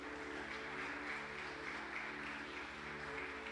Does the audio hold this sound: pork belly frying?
no